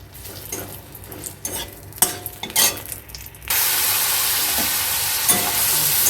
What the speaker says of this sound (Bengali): পেঁয়াজের পেস্টটাকে মানে ভালো করে একটুখানি ভেজে নিতে হবে